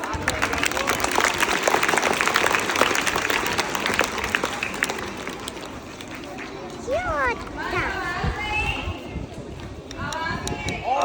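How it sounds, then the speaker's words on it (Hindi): Applause from a group of primary school children rises loudly, a dense patter of clapping in a classroom that lasts several seconds before fading into chatter and scattered high voices. "तो इसके लिए तालियां बजा दीजिए एक बार।"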